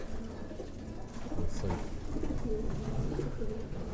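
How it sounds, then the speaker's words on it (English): Big racing sprint pigeons cooing in a loft, repeated low throaty coos overlapping close by with background rustle. "These are the sprint pigeons."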